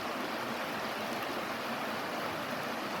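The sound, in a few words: creek water flowing over rapids beside road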